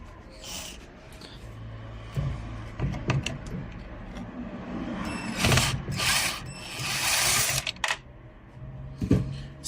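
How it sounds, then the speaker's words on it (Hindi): Ratcheting, clicking metal sounds from unscrewing a screw on a washing machine during a repair, irregular short bursts and scrapes close by, with no talk. "स्क्रू खोलने के बाद"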